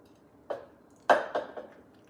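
A few soft, wet splats and squelches land close by in quick succession as thick, well-mixed sauce is poured over a pork roast.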